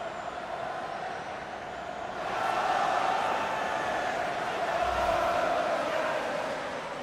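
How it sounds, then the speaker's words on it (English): Stadium crowd in a women's football video game, Arsenal against Tottenham Hotspur, roaring after a late go-ahead goal; a broad, steady wall of cheering that swells louder midway and holds, with no voices standing out. "the roar of the crowd tells you exactly what it means"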